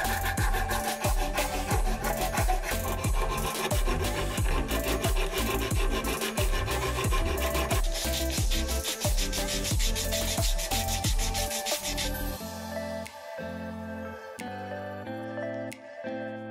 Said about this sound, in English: we'll move on to hand sanding